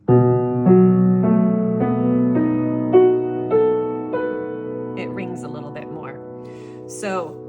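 Piano notes played on the fingertips, struck one after another in a bright, clear sequence from Debussy's Arabesque No. 1, ringing and fading, with a faint voice near the end.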